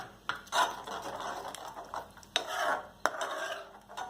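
A spoon stirs kadhai paneer masala with kasuri methi in a kadhai, with irregular scraping and several sharp metallic clinks against the pan over faint background sizzle.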